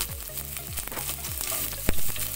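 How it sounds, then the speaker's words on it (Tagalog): Red onion sautés in a pan with a soft, steady sizzle. A few low scrapes and knocks of a utensil against the pan sound close by, and there is no talk. "Start na tayong mag-gisa. Hindi na ako gumamit ng white onion. Red onion na lang."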